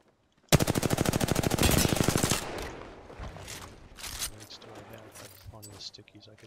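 Spitfire light machine gun in the Apex Legends battle royale unloads a loud, rapid sustained burst for about two seconds, then tails off into scattered shots, game effects and voices talking over the action.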